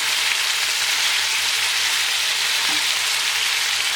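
Venison pieces for a civet sizzle steadily in a hot pan as they are turned, a dense, even frying hiss throughout with a faint low hum beneath and no voices.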